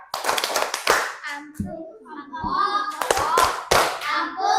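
Schoolchildren in an elementary classroom clap a rhythmic chant together, with bursts of sharp group hand claps mixed with chanting voices, close and loud.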